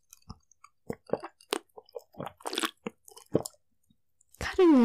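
Close crunchy chewing and biting of a corn cheese croffle, a series of separate crisp bites and chews spread over a few seconds, followed by a brief louder sustained sound at the end.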